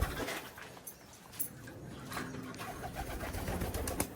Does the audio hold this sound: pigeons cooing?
yes